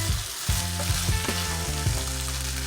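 Minced meat stew frying in a pot while being stirred, a steady close sizzle broken by several soft scraping strokes of the spoon, no voices.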